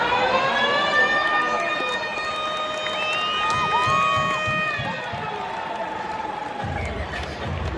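A stadium siren wails at a rugby league match at Cbus Super Stadium on the Gold Coast, a long, loud rising and falling tone over crowd noise and cheering, with a person talking nearby.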